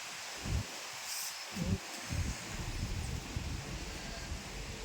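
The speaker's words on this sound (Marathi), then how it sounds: "इतक्या जोरात सुटलं वारं." Strong wind blows outdoors in steady, loud low gusts with rustling, swelling and easing over several seconds, no voices.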